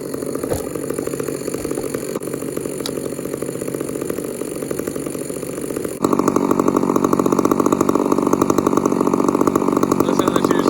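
Husqvarna 266 chainsaw idling outdoors during tree felling. It gives a steady two-stroke putter at a constant loud level that steps up in volume partway through, with a faint voice underneath.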